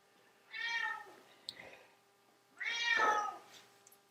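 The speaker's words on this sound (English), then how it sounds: "You can hear meowing in the background." A house cat named Bob meows twice indoors, two drawn-out, moderately loud calls a couple of seconds apart, with faint small clicks and quiet room tone between them.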